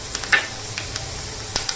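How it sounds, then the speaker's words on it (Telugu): One spoon of fenugreek seeds goes into hot oil to temper an amla and red chilli pickle. A brief, faint sizzle carries a few sharp crackling pops. "ఇదిగో మెంతులు 1 స్పూన్ మెంతులు వేస్తాం."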